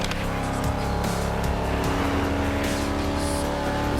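Vintage Cadillac driving in The Crew Motorfest video game, a continuous loud engine hum with shifting tones as it cruises, tires and traffic noise layered on top.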